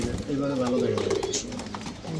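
Pigeons coo in low, throaty murmurs close by while someone talks over them; two breeding pairs are restless and agitated.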